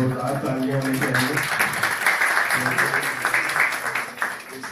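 Audience applause for a patient at an infertility medical center event, a steady wash of clapping that runs throughout, with voices talking over it at the start.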